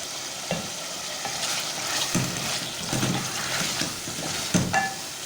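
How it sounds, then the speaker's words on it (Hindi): Potatoes with spices frying over high heat for kulfa saag, a dense close sizzle with repeated stirring scrapes and clatters, no voices. "तेज़ आंच पे आप इसको 2 से 3 मिनट अच्छी तरह से आलू को भूनें"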